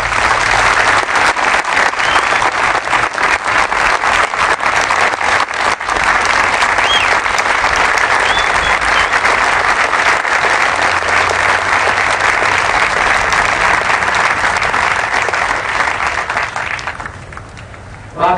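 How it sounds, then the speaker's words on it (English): A large crowd at a military promotion ceremony applauds for troopers standing in the field, loud and continuous for most of the span before tapering off near the end. "So please join me in giving them a round of applause."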